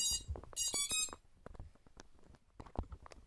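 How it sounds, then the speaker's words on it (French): A few quick high-pitched electronic beeps from a quadcopter drone controller at the start, then faint clicks and handling noises, fairly quiet and close. "Bip de confirmation"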